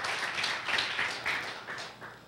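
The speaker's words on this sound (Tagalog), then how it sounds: "Come on, malakas na palakpak po para ka sa Panginoon." A church congregation breaks into loud, sustained applause, the dense clapping rising and falling in swells, with no one speaking over it.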